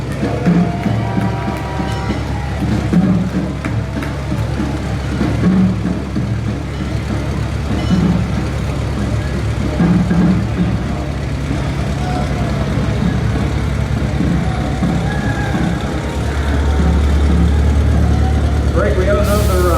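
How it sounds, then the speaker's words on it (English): Antique fire trucks drive past in the Annapolis St. Patrick's Day parade 2018, with a steady low engine rumble that grows louder toward the end as a crowd and an announcer talk over it. "We have another James Bond fire truck or two in this."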